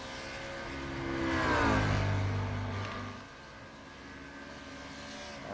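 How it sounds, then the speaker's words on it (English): Race cars do burnouts near turn 1 at Watkins Glen in the iRacing GT3 sim racing game. A single engine revs up and swells, then fades into a faint, distant drone. "Probably some burnouts being done down by turn 1 now."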